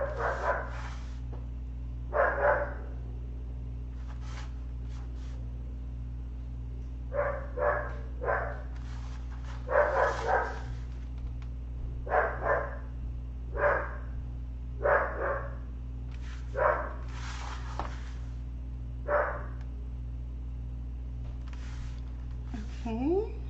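Dogs bark in repeated bursts of several sharp barks with short pauses between them, at moderate distance indoors, over a steady low hum, with a faint voice in between the bursts.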